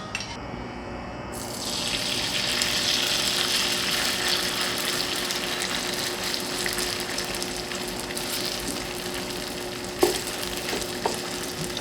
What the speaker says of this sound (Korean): 참기름 한 스푼을 넣고 섞어주겠습니다.